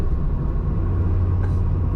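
Porsche GT3 sports cars pass at the Nürburgring, a loud, close engine rumble sustained through the moment with no voices over it.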